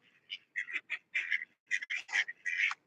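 Several ducks quack in a rapid run of short, nasal bursts with brief gaps, close by and fairly loud, while the birds press a female during breeding season; no one speaks.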